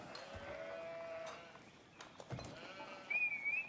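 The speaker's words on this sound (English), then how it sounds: "I love how many sheep are on this map as well." Sheep bleating in a real-time strategy video game, several short bleats over a low game ambience, one clearer bleat near the end.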